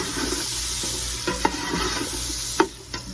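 Sweet onions fry in a pan with a steady close sizzle, broken by a few sharp scrapes and clacks of stirring, the loudest near the end.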